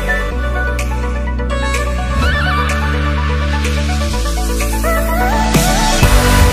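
Arabian horse whinnying at an equestrian festival, a wavering high call rising over a dense, steady bed of tonal sound that runs through the whole stretch.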